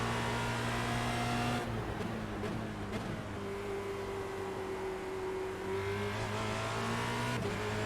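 A Formula Renault 2.0 race car is driven hard around the Oulton Park circuit, its engine revving loud and near, with pitch dropping and rising through gear changes and no voices.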